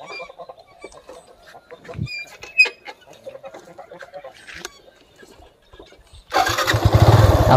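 A motorcycle engine kicks over and catches after about six seconds, settling into a loud, steady close idle; before that, chickens cluck nearby and there are scattered faint sounds.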